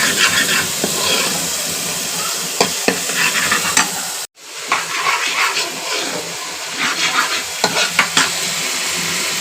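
Masala spices sizzling loudly in a pan while being stirred, a dense continuous frying hiss with scraping strokes and one brief break partway through.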